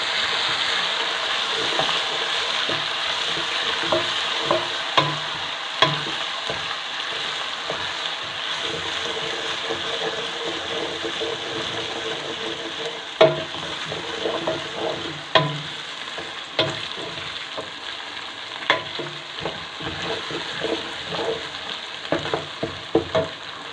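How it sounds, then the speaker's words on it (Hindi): Ginger garlic paste sizzles and fries in oil with browned onions for a chicken and chickpea curry, a steady crackling hiss with occasional stirring scrapes and pops, close and continuous without speech. "इसके अंदर हम अदरक लहसुन का पेस्ट डालेंगे और उसको 2-4 मिनट तक फ्राई करेंगे"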